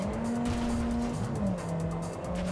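A car in Cyberpunk: Phantom Liberty drives hard with a loud, steady engine drone, while its tires squeal and skid and the pitch shifts as it slides and corners.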